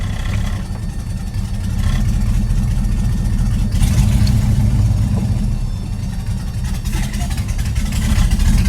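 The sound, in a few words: Chevy car engine running while driving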